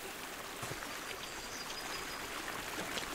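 A river stream flows in the video game Kingdom Come: Deliverance, a soft, steady trickle and babble of water that stays faint and even throughout, with no voices.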